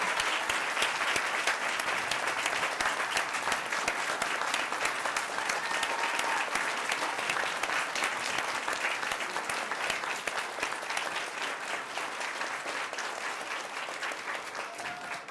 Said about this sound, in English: So big round of applause for the best and the brightest here.